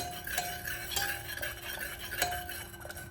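Soft scraping and occasional light clinks of a spoon stirring dal in a pot, quiet and close, with a faint steady hum underneath.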